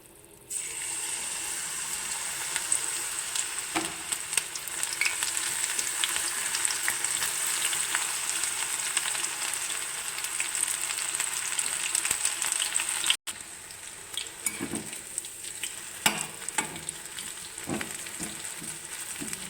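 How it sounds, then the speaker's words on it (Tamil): Banana flower pieces frying in oil in a small pan, a steady close hiss and crackle of sizzling that continues throughout, with occasional stirring clinks. "இப்போ வந்து இதை எண்ணெயில் கொஞ்சம் கொஞ்சமாக போட்டு பொறிச்சு எடுத்துக்கலாம்"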